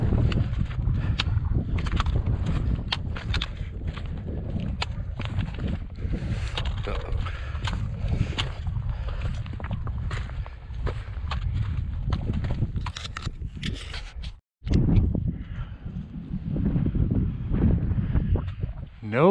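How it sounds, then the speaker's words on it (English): Steady wind roars across an exposed mountain ridge under cloud, a constant broadband rush with gusty swells, a brief drop near the end before the blowing resumes. "Wind on this side of the ridge."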